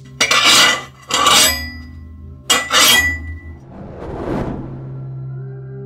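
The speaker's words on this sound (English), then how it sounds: "all the metal sounds I actually drove through this tape machine" Metal foley for the action game Gunkatana, distorted through a tape machine preamp: loud, gritty metallic scrapes and clanks in three close bursts, then a softer swelling whoosh with a lingering hum.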